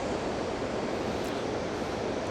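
Rough sea surf at a beach in Şile, a steady broadband wash of breaking waves, moderately faint and continuous with no talking.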